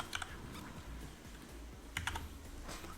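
Fast clattering keystrokes on a computer keyboard, close, in two quick bursts of clicks over steady background hiss.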